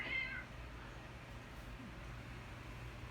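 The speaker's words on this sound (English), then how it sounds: "This cat acts like I don't feed her." A single short cat meow near the start, fairly close, then a steady low hum fills the rest of a workshop setting for repairing a 1981 Bally Midway Ms. Pac-Man arcade board.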